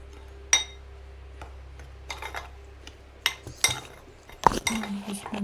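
A utensil knocks and scrapes against a bowl as ingredients are mixed by hand, scattered sharp clinks with quiet gaps between them under a low steady hum.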